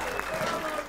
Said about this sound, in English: How about a round of applause for Luge taking care of sound tonight